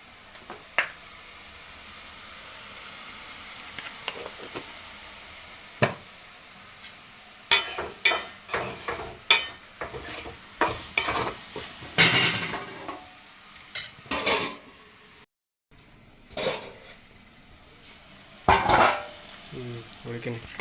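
Capsicum curry sizzles in a pan while a spoon stirs and scrapes it in irregular bursts, with clinks of utensil on metal and quiet gaps between.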